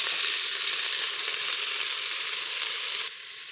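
Chopped vegetables hit a hot pan already holding onion, garlic leaves and cumin for khichuri, giving a loud, steady frying sizzle that hisses on without pause and drops suddenly in level near the end.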